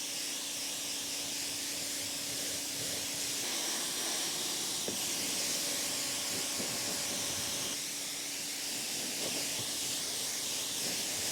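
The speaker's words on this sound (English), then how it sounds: "Now I'm just gonna hose it down. I got the old 15, or no, I got the 40 degree on." A pressure washer fitted with a 40-degree nozzle rinses a used 2015 Polaris RZR 900 Trail, giving a loud, continuous broadband hiss of spray with a steady motor hum beneath that shifts slightly as the jet moves.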